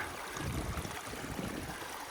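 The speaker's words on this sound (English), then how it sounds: "Nice little gully down there with a stream cascading down." Water from a small ephemeral side creek cascades down a gully, a steady close broadband rush and trickle that continues unbroken throughout, with no one talking.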